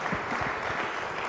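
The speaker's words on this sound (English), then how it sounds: "I have not said you should stop clapping, you know." An audience claps steadily at an international investment and economic summit. A brief, continuous wash of applause, even in level and moderately distant, with a low murmur beneath it.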